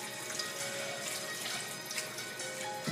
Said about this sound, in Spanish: Ahora echamos el agua